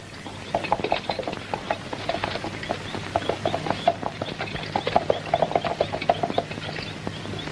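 Horse hooves clip-clop in a steady, uneven rhythm on hard ground, moderately close, with many overlapping strikes over several seconds and no talking.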